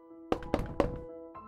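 Three hard knocks on a door in an eerie horror setting, evenly spaced, then a quieter fourth thud, over a faint steady hum.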